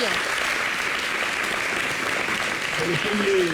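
A TV studio audience applauds in a steady wash of clapping, heard at moderate distance, with a voice speaking briefly near the end.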